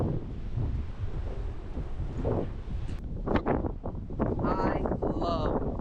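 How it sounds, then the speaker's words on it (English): Strong wind buffets the microphone on a mountain summit, a rough low rumble that gusts and dips, with people talking over it in the second half. "I love the wind. It's great. It is great. Right now it's a little too much"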